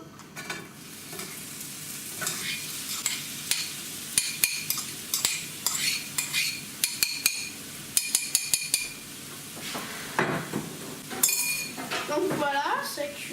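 Onions added to a hot pan and frying for homemade tacos, a steady sizzle with repeated utensil clinks and scraping against the pan, close and fairly quiet.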